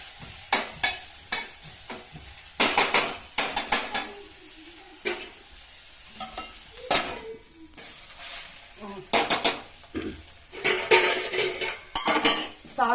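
Chickpea leaves and mint sautéing in oil for a chutney, with loud, frequent metal spoon scrapes and clanks against the pan over a low sizzle, close and busy throughout.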